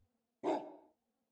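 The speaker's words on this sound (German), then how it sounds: "Bellen kann er auch." A single short bark from a wolf creature in the video game Path of Titans, one burst lasting about half a second, fairly loud and alone against quiet.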